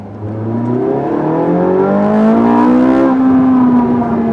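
A Ferrari 458 Italia engine revs hard and climbs steadily in pitch as it accelerates through second gear, loud and close, with no talking.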